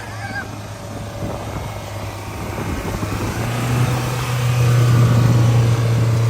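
A Mahindra Thar SUV engine holds constant throttle during an off-road self-recovery, a steady low drone that rises and strengthens toward the end with no talk over it.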